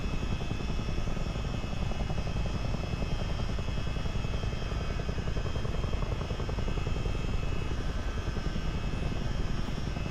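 A CH-47D Chinook helicopter in a flight simulator game flying over the Great Lakes, with a constant loud droning rotor thrum and engine whine that holds steady throughout with no voices.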